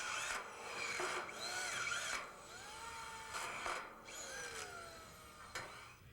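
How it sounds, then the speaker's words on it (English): A power drill drives frame screws through a collar tie bracket into a metal roof truss, giving several short whirring bursts with pauses between them, fairly faint and heard alone. "Fasten each collar tie bracket to the roof wall assembly"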